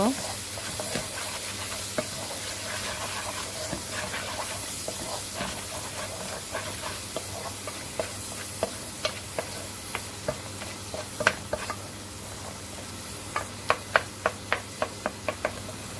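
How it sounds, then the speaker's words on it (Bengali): Spice paste of turmeric powder and chili powder frying in a pan while it is stirred, giving a continuous soft sizzle broken by frequent sharp spatula taps and scrapes that grow sharper toward the end, with no talk. "ভালো করে নেড়ে চেড়ে আমি মশলাটাকে কষিয়ে নেব"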